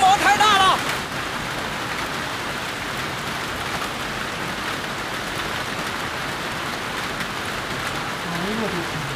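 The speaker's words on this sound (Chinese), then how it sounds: "你别来了，你来了没有用，冰雹太大了。" Heavy hail pounds down outdoors in the countryside, a dense, even roaring patter that holds steady throughout, with a voice briefly audible at the very start.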